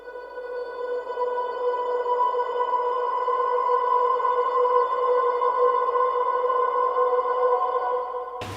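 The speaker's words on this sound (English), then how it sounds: "a pad that's been reversed, and then I've added some reverb on top of that" A sustained, smooth reversed synth pad holds steady tones with a washy, reverberant tail, ending abruptly with a brief low thump.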